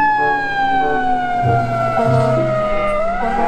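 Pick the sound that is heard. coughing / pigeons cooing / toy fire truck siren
toy fire truck siren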